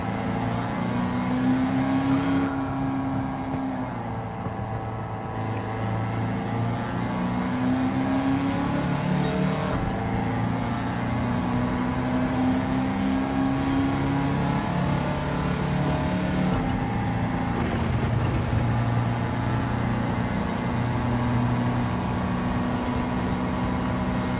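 A 1966 Volkswagen Beetle with an engine swap, driven in Gran Turismo 7, engine humming steadily with rises and falls in revs as it corners and brakes, with no talk.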